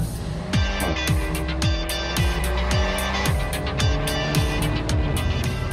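An Alpine A110 sports car drives hard and loud, its engine note rising and falling through repeated quick upshifts, each gear change clearly stepping the revs, with faint tyre noise beneath.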